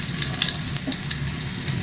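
Onion and garlic brown in a hot pan for ginataang kalabasa, giving a dense, close sizzle with small crackling pops throughout.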